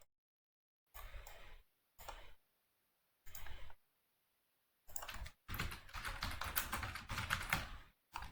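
Marker or pen writing on a figure during a lesson, heard as separate bursts of scratchy stroking with silent gaps, ending in a longer continuous stretch of writing, close and clear.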